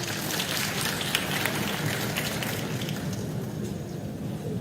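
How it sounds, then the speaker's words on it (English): Steady audience applause fills a conference hall at a health conference, a dense, even wash of many hands clapping that holds at a constant level throughout with no talk over it. "A round of applause, please."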